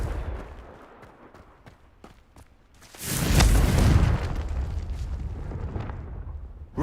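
A Confringo spell explodes in Hogwarts Legacy: a quiet stretch of faint clicks, then a loud, sudden fiery blast that rumbles and hisses for several seconds before fading, with no talk.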